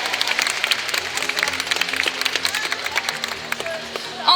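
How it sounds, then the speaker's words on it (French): A cosplay catwalk audience applauds with dense, steady clapping and crowd noise that keeps going throughout. "Et on peut l'applaudir encore une fois."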